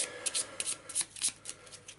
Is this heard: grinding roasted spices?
no